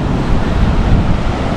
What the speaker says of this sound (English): the waves roaring in the ocean there over in the distance